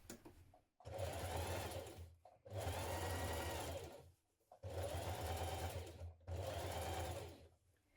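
A sewing machine top-stitches around a trouser fly in four steady bursts of rapid, close-up stitching, separated by brief pauses.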